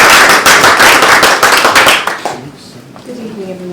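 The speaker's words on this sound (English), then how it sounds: "Round of applause, please." An audience at a talk session applauds a speaker being introduced, with loud, dense clapping that fades out after a couple of seconds, followed by a voice starting to speak.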